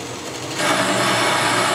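A harsh, steady grinding hiss starts up and holds at full loudness as a cutting tool bites into a hard steel part, with no voices.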